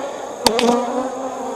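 Close buzzing of honey bees around a hive being inspected, one bee sweeping near and then fading into a steady background hum.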